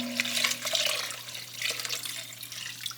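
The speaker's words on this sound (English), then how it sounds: "Now we're gonna take the chicken broth and slowly add it to our mixture." Chicken broth pours into a pot of zuppa soup and is stirred in, a close, steady liquid splashing that swells and eases over a few seconds with a faint low hum beneath and no talking.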